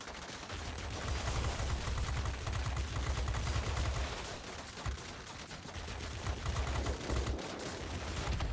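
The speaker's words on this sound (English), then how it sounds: "we let the guns get a little bit hot there" Fighter plane machine guns fire in bursts during World of Warplanes gameplay, rapid rattling fire over a constant engine drone, with short pauses between volleys, loud and alone.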